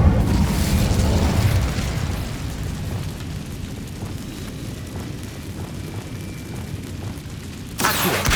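The Incendio fire spell cast in the video game Hogwarts Legacy gives a loud whooshing, roaring burst of flame that rumbles on steadily with crackling texture, then flares again at the end.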